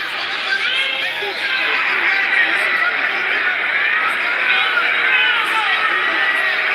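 A boxing arena crowd at the Ford versus Matisse fight murmurs and calls out in a steady restless babble, with a commentator talking over the noise.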